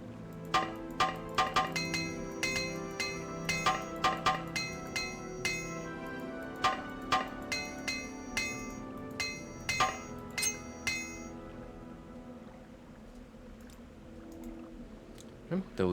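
Item repair in Morrowind rings out as a run of sharp metallic clinks in irregular bursts, close and clear, thinning out and falling quiet near the end.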